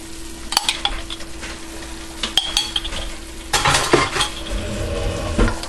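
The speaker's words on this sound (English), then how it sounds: "And give this a good stir." A spoon stirs a cup of orange marmalade sauce in a pot for an orange apricot chicken dish, scraping and clinking against the metal in uneven bursts with a soft sizzle underneath. No one speaks.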